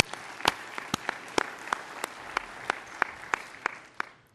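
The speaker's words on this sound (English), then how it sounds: "you should give all of yourselves a round of applause for your dedication and commitment to be here in Toronto" Audience applause at the opening ceremony of the 2010 ACCT Leadership Congress in Toronto, a sparse, steady patter of individual claps with a few sharper, louder strikes standing out, fairly close and continuous throughout.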